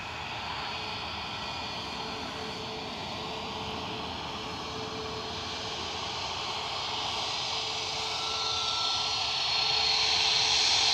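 Engines of an Emirates Boeing 777 on the runway at Newcastle airport, a continuous broad jet roar that swells gradually louder toward the end, heard alone at a distance.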